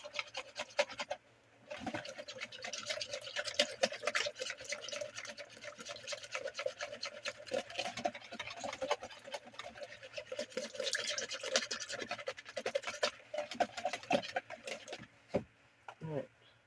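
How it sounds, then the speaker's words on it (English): Two ingredients are whisked together in a bowl for Southern bourbon balls, a steady close scraping and clicking that runs nearly nonstop for about fifteen seconds with a brief pause near the start. "we're gonna want to whisk these two together"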